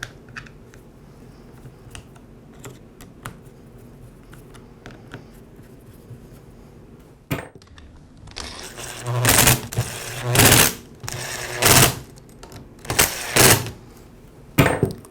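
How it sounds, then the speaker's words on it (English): Screws are driven in to secure the two halves of a Ryobi string trimmer handle, starting with quiet fiddling and small clicks, then a run of loud, close bursts of driving or ratcheting in quick succession. "I'll go ahead and secure the handle with the 5 screws."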